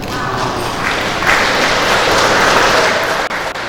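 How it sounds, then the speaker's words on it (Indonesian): Congregation applauding at a wedding blessing in a Surabaya church, a dense, loud wash of clapping that swells midway and holds steady before cutting off. "Tepuk tangan."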